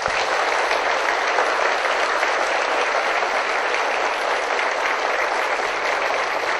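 Sustained audience applause follows a ballet performance, a thick, uniform roar of many hands clapping continuously and loudly with no pauses.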